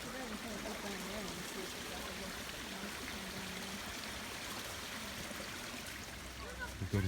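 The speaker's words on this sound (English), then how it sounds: "Oh, this is like a little bit waterfall." Steady rushing and trickling water from a small waterfall at a beaver dam, spilling over nearby, continuous and fairly loud throughout.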